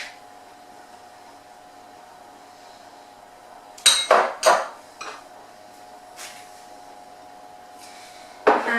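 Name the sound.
creaming butter, sugar and Biscoff spread in a bowl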